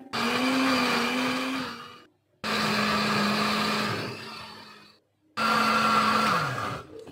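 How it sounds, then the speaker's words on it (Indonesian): An electric kitchen blender grinds shallots, garlic and cooking oil into a spice paste, whining loudly in three long bursts separated by short silences, its motor pitch dipping as the last run winds down. "Kemudian kita blender."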